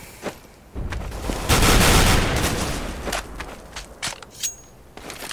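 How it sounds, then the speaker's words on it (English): Flashbang grenade in a tactical shooter video game, a sharp burst followed by a dense ringing roar lasting about a second, with scattered thuds and gunfire-like cracks around it. "Throwing a flashbang."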